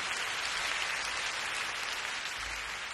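Steady, hissing applause from a large audience at a 2003 Hong Kong concert, even and continuous with no voices.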